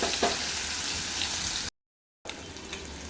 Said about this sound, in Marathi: त्याच कढईमध्ये आपण घालून घेऊयात आपले पावाचे खरबुजाचे तुकडे.